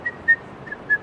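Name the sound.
human whistling imitation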